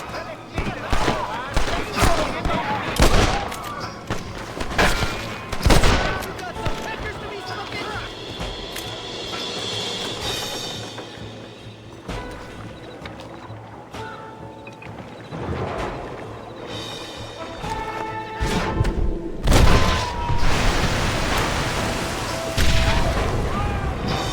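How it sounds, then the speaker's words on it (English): Repeated booming gunshots from enemies firing down off a cliff in the Western game Red Dead Redemption, irregular heavy bursts over continuous ambient noise and game sounds, with voices speaking at times. "They're shooting down on us."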